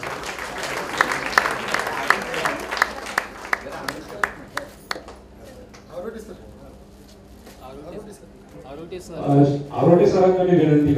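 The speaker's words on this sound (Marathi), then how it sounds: "एकदा टाळ्या उठवल्या" At a credit cooperative's annual general meeting, the audience gives a burst of sharp, scattered claps that thin out over a few seconds, then fade into quiet room sound before people start talking.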